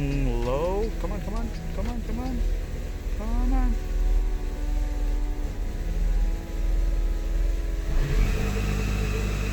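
A supercharged Toyota FR-S engine idles low with a hum, then revs up and down in several rising and falling bursts, while people talk nearby.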